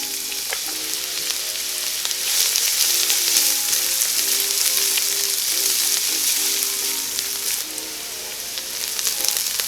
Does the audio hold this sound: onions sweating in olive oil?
yes